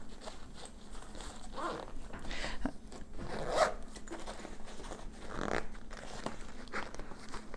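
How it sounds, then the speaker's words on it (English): The top of a TakeOff travel bag is zipped shut in several close, rasping zipper pulls spread over a few seconds, with light handling noises between strokes. "And I'm going to zip up the top."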